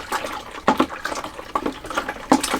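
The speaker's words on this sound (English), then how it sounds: "So I've added 3 more litres of cold water." Cold water is poured into a semolina wine batch in a brewing vessel, giving an irregular run of splashes and gurgles with several sharper sloshing bursts, close and fairly loud.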